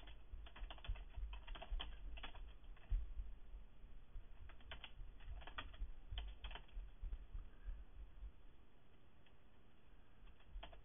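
Keys on a computer keyboard are tapped out in quick, quiet bursts as a terminal command is typed on a machine running a Fedora 12 live CD, with short pauses between runs of clicks.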